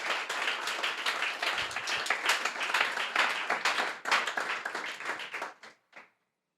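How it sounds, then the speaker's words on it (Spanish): Audience clapping at a Christian sermon, a dense burst of applause that thins out into a few scattered final claps before stopping. "Démosles aplauso a ese buen Padre."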